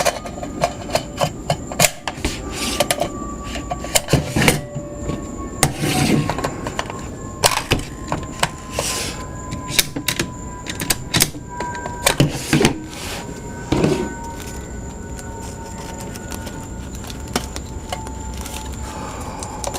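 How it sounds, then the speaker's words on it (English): Magazines are handled and seated into a Savage 10-FCP-SR bolt-action rifle with the bolt open, giving close, intermittent metallic clicks, clacks and knocks, spaced irregularly and fading toward the end. "Let's quickly show how some of these magazines go in. Like to load on an open bolt."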